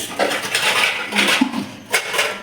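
A metal lid set onto a pot of homemade biryani cooking on a gas stove, giving a few light clattering clinks and a scrape, close by and fairly clear.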